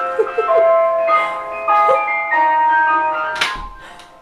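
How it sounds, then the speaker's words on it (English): An ice cream van's chime plays a bright tinkling melody from outside, moderately loud, with a thump and some background noise near the end. "Oh my gosh, you can hear the ice cream van"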